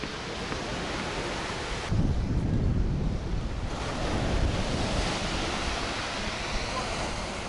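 Stormy sea waves crash on a beach in Yalta, Crimea, a loud continuous roar of surf mixed with heavy wind buffeting the microphone, with surges of breaking water.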